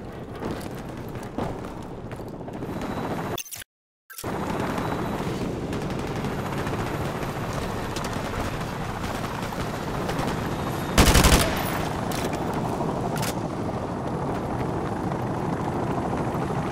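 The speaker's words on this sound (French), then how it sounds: "Tire de suppression!" Helicopter rotor roar and rapid suppressing machine-gun fire in Call of Duty: Modern Warfare Remastered, loud and continuous throughout, with a brief cut to silence early on and a sharper, brighter burst partway through; no talking.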